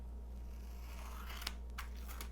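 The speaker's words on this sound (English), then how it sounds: "And then I'm going to go ahead and cut that out." Scissors snip through a thin paper napkin at a crafting table, a few short crisp cuts, quiet and close, over a steady low background hum.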